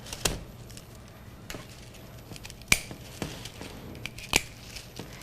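Pieces of reed twine are snipped off an envelope basket, giving several sharp, close clicks of cutting spaced a second or more apart over a quiet background, with no talk.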